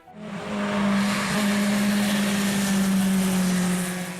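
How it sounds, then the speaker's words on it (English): A Formula 2000 open-wheel, full-size race car drives past with a loud, steady engine drone that holds a sustained pitch for about four seconds, close and continuous with no talking. "I'm racing Formula 2000. That is an open wheel, full-size race car."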